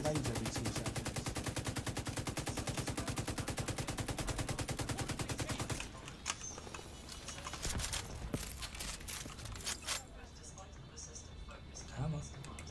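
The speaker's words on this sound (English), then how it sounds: "what the hell's launching grenades every 2 seconds?" Grenades launched by the Warhound in a video game fire in a rapid, steady rhythmic volley of loud repeated bangs for about six seconds, then give way to scattered explosions and softer clatter.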